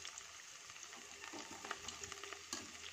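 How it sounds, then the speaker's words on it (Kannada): Cauliflower pieces for gobi Manchurian fry in hot oil, giving a faint, steady crackling sizzle with small pops and a few brief stirring scrapes. "ತುಂಬಾ ಸಖತ್ತಾಗಿ ಫ್ರೈ ಆಗ್ತಾ ಇದೆ ನೋಡಿ ನಮ್ಮ ಗೋಬಿ"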